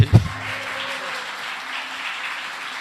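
Church congregation giving a round of applause at a Sunday morning communion service; a brief loud thump opens a faint, steady wash of distant clapping.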